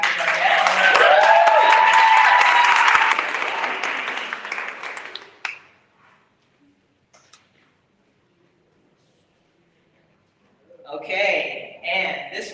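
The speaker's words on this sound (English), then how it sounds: "a round of applause for Catherine Barnett." Audience applause at a pitch competition awards event, loud and dense for about five seconds before tapering off into near silence, then a few people speak.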